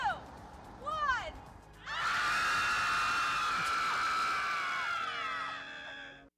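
Several women scream together in a played-back recording, a few short shrieks at first and then a long, loud, sustained chorus of high screaming that fades out at the end.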